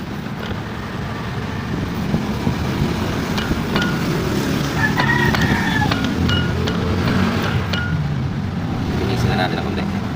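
Roadside traffic rumbles steadily beside a car fabrication job on a transmission support, a continuous wash of passing vehicles with occasional faint clanks and a voice talking over it.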